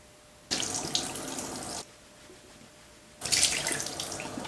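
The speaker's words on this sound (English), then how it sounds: "Now it's time to wash my face." A bathroom sink tap runs in two strong, close bursts of gushing water while a face is washed, with a quiet pause between them.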